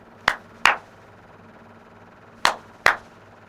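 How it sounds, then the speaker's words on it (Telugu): Four sharp hand claps in two pairs, close and loud, with a pause between the pairs, used to set off a sound-alert app. "చూద్దాం ఒకసారి ఇప్పుడు క్లాప్ చేయు."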